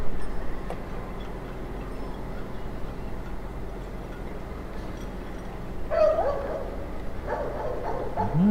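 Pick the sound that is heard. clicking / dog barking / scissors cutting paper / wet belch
dog barking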